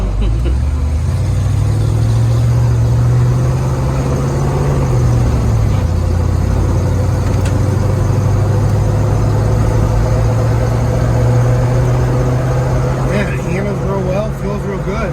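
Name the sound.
1966 Ford Mustang being driven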